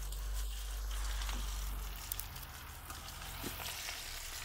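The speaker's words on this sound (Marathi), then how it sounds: "आपण बारीक गोल आकारात कापून घेतलेल्या आळूच्या वड्या तळायला टाकूयात कढईमध्ये" Colocasia leaf rolls (alu vadi), cut into thin rounds, frying in hot oil in a wok over a wood-fired stove, giving a steady, close, continuous sizzle with a low rumble beneath and no talk.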